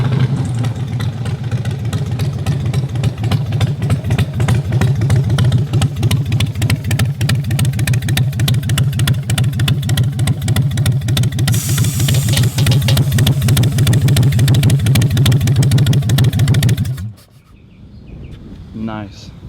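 Engine of a 2019 bobber-style motorcycle idling close by with a steady, throbbing low rumble for most of the clip before cutting off, while people talk over it.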